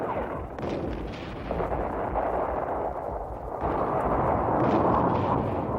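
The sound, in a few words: Israeli artillery shelling in archival war footage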